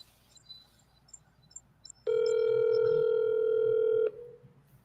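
Telephone call being placed: a few faint, quick dialing tones, then a loud steady tone that holds for about two seconds before cutting off, with quiet room noise around it.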